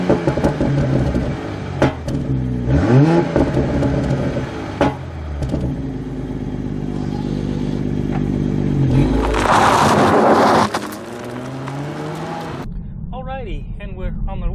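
A Toyota GR Supra GT4 Edition engine revs up in rising sweeps, then settles into a steady cruising drone with a surge of road and wind noise. A voice speaks briefly at the end.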